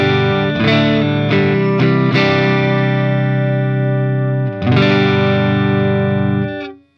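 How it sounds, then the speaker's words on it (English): Electric guitar played through a GrandMeister Deluxe 40 amp on a clean tone with boost, a few struck chords ringing out and sustaining loudly, the last one fading away. "Let's start with the GrandMeister Deluxe 40 and go for this kind of, well, clean sound I like to use."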